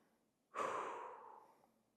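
An archer draws one deep breath before drawing the bow, a single close, breathy inhale-exhale swelling quickly and trailing off slowly in otherwise quiet surroundings.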